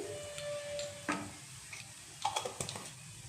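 A small amount of ghee sizzles in a pan after bay leaves go in, the start of a chicken korma; a quiet, steady frying hiss carries light clinks and stirring taps, with no voices.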